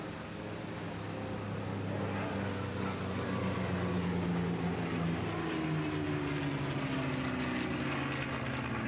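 A P-51 Mustang propeller fighter flying aerobatics at an English Riviera airshow, its piston engine droning loud and continuous with a rising and shifting pitch as it climbs away.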